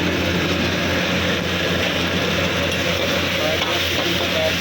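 Fried chicken is stirred into chili paste in a hot pan, giving a steady, loud sizzle with a constant frying hiss and faint scraping throughout.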